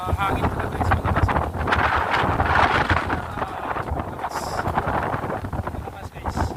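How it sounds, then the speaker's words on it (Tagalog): Strong wind buffets the microphone in loud, continuous gusts, with a roaring rumble that barely lets up. "Hangin pala guys, malakas."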